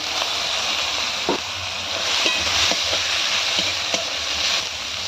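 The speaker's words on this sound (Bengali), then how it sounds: "আদাটা একটু ভালো করে ভেজে নেব ফুলকপিগুলো দিয়ে দেবো" Ginger and cauliflower frying in a pan, giving a continuous moderate sizzle with a few faint scrapes and clicks from stirring, without any talking.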